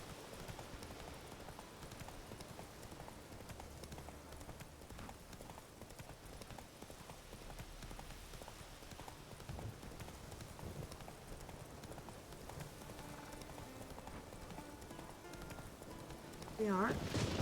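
Geralt's horse Roach from The Witcher 3 clip-clops with a steady rhythm of hooves, quiet and close, over a soft rain-like ambience. A voice may be faintly present, and the gait slows as the horse stops near the end.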